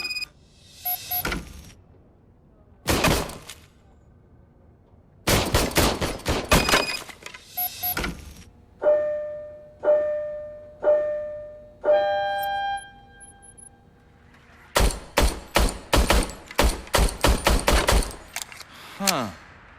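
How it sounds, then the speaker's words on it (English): An old police service gun fired in the video game Robocop: Rogue City, loud separate shots and bursts with ringing metallic tails, some tonal mechanical clicks between, and a rapid string of shots near the end. "I was issued this old gun and serviced it according to the manual. I will try it out."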